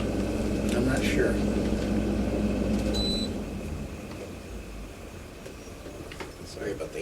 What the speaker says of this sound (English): Sorry about the AC noise, and that don't need to be running.